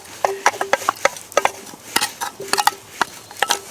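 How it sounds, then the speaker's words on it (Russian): Potatoes stirred in a frying pan over a campfire in a forest, with repeated sharp metallic scrapes and clinks of a utensil against the pan at an uneven rhythm, close and clear. "Картошка у меня тоже слегка обжарилась."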